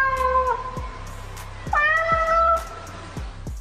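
A cat meows loudly several times in close succession, drawn-out and insistent, with faint tapping underneath.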